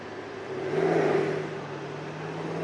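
A heavy truck's engine rises in a brief rev as the driver gives it gas, swelling to a mid-pitched whirring peak and easing back to a steady idle hum, nearby and moderately loud, without speech.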